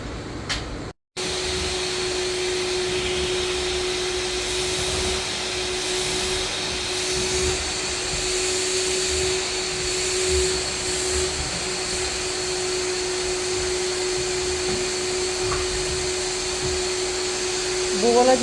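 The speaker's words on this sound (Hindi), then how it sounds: "इसको भी वैक्यूम कर देना।" A vacuum cleaner sucks dust from household furniture in a steady, loud whine. The drone runs continuously apart from a brief cutout near the start.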